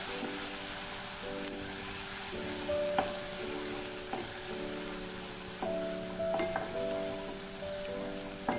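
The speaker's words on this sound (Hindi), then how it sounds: "लहसुन का पेस्ट शामिल करेंगे, फ्लेम मैंने मीडियम ही रखी है, तो थोड़ा सा भूनेंगे।" Garlic paste frying over a medium flame, a soft continuous sizzle and hiss heard close, with some faint clinks and scraping under it and no talking.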